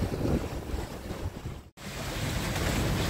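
A sailboat under sail in about 12 knots of wind off Tahiti, with a steady roar of waves and rushing water plus loud wind buffeting the microphone and a brief dropout midway.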